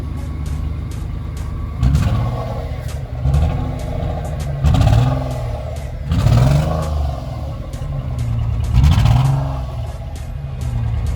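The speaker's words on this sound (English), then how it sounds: "Also the muffler is blow. Let me see if you can hear it. Rev it 2 times." A 2011 Nissan Teana with a blown muffler idles roughly and is revved repeatedly, giving several loud, rasping surges over a clattering idle.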